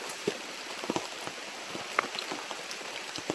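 Rain falls steadily on a surface outdoors, making a continuous wash of patter with scattered louder individual drop hits, close by and moderate in level, with no talking.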